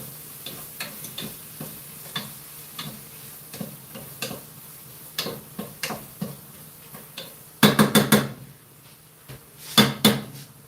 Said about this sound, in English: So I'm just going to give these a good stir.